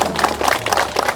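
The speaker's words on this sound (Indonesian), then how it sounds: "Tepuk tangan buat Bu Mindres." An audience claps for a woman at a gathering of about 300 people. The applause is steady and dense, with many hands clapping together for just over a second.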